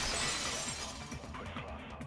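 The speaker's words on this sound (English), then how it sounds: "heard the sound of the window shatter" Window glass shatters in the Danganronpa 2 video game, a loud bright crash that spills into tinkling falling shards and fades over about two seconds.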